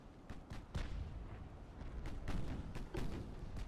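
Naval artillery fires in the video game Ultimate Admiral Dreadnoughts, with a rapid series of heavy booms and blasts following one another, faint and somewhat distant.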